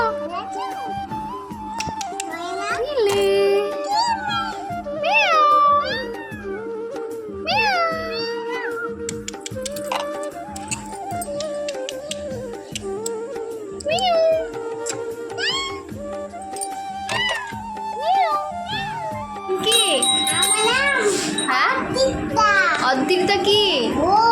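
A cat meows repeatedly in a home, rising and falling calls close by, mixed with a voice and an adult talking throughout.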